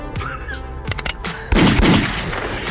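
Gunshots ring out in a quick, sharp burst of loud cracks close by, followed by a dense crackling rush of noise that carries on to the end.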